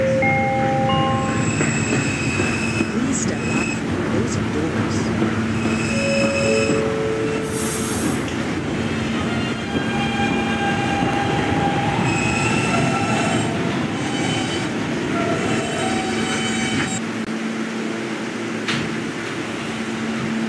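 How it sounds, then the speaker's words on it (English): A D train arrives at a subway station, rumbling along with loud, high-pitched wheel squeals rising and falling throughout, then the rumble eases as it slows. "this is a West Baton bound D train"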